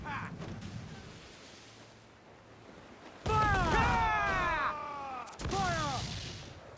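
Ship cannon fire in Assassin's Creed 4: Black Flag comes as loud, broad blasts with rumbling tails, two heavy bursts in quick succession after a quieter stretch of surf-like wash and game ambience.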